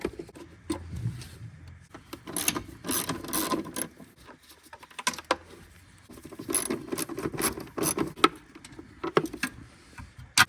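A ratchet on a long extension loosens the three 10mm bolts inside the battery tray of a Ford Escape 1.5L, giving irregular bursts of sharp clicking and metallic rattles with short pauses between.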